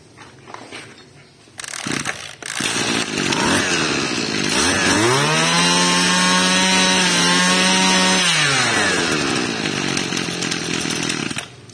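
A used chainsaw engine sputters to life after a couple of pulls, then runs loud and close, revving up to a high whine for a few seconds before settling back to a rough idle.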